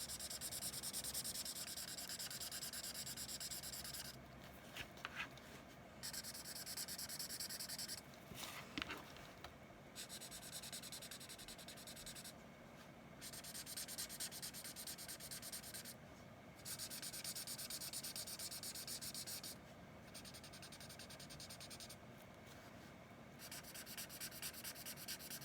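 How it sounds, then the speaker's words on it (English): Colour being smoothed over a donkey card with a blending tool, a soft steady rubbing scrape in repeated strokes with brief pauses between passes, close and fairly quiet. "I'm just smoothing over all of the color."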